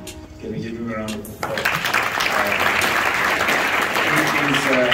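An audience breaks into applause for Professor Mills, the clapping swelling after a quiet opening moment and holding as a dense, loud, sustained wash of hands through the rest of the clip.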